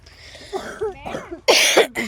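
A person coughs several times in short, harsh bursts, with a louder, rougher cough toward the end, close to the listener.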